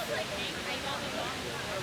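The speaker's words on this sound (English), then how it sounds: "There's a lot of water coming off of that cliff." A powerful waterfall pours off a cliff, a loud, dense, continuous rushing roar filling the air, with faint crowd babble from a busy spot mixed in.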